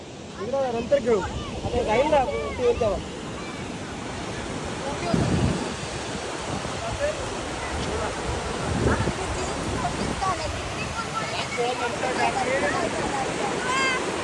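Sea waves at Varsoli beach in Alibag wash in with a broad, rushing surf roar, mixed with wind buffeting the microphone and faint voices in the background.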